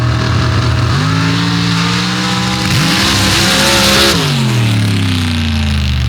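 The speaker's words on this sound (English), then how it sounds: "You heard him get on the throttle, and then it died immediately." A drag race car engine roars loudly at close range, climbs in pitch as the throttle opens, then suddenly drops away as it dies and winds down to a low rumble.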